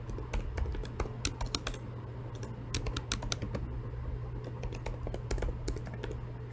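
Keys on a computer keyboard clack in a steady, quick run of typing close to the mic, over a low constant hum.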